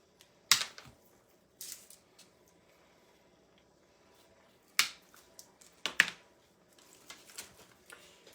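Evergreen greenery stems are cut for a wreath with a few sharp, close snips and clicks, spaced apart with quiet gaps between them.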